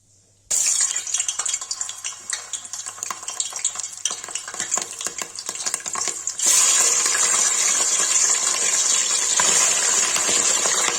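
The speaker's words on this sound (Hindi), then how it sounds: "मटन फ्राई के लिए रख दिया है" Mutton pieces drop into hot oil with a sudden loud sizzle, then fry with steady crackling and occasional stirring scrapes; the hiss surges even louder partway through and holds close and continuous.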